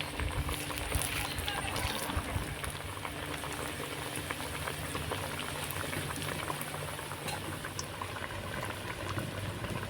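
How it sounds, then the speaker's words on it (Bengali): Semolina pitha cakes deep-fry in medium-hot oil, with a continuous close bubbling and crackling hiss that stays even throughout, dotted with small pops. "এবার পিঠেগুলো একে একে করে ছেড়ে দেবো তেলের মধ্যে"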